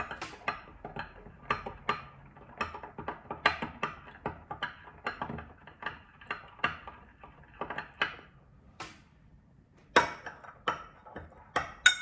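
A spoon stirs salt into water in small containers, giving faint, rapid, irregular clinks and taps against the sides over a quiet background, with no voices.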